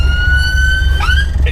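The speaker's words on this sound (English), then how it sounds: "Oh, ambulance!" An ambulance siren wails loudly and steadily over low road rumble, its pitch rising and sweeping as it draws near.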